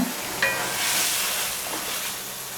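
Green chilies with their tops cut off dropped into hot oil in a pan with potatoes, a steady loud sizzle and hiss with a brief clatter at the start and no talking.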